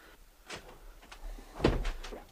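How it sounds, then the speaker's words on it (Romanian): A door in a Romanian radio play is handled and closed, a series of soft knocks and creaks ending in a firmer thud, faint and close in a quiet room. "Lăsați că închide ușa."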